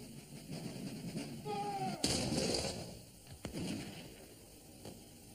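A musket volley erupts as one loud crack followed by a smaller second report, faint and distant against quiet background murmur.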